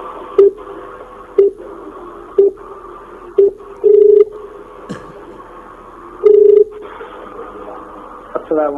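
Telephone keypad dialing tones for a phone call, a series of short touch-tone beeps followed by two longer tones, heard over a faint background murmur with some broadcast-like noise.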